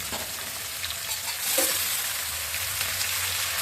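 Cauliflower pieces going into a pan of frying potatoes, giving a steady broadband sizzle with a brief louder burst of crackling as the florets land, then continued frying and stirring noise.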